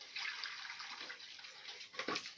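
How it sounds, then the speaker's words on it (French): Water poured and splashing into a basin for washing a military outfit in a rural home kitchen, a steady close hiss with a brief louder splash near the end, no voices. "on met l'eau"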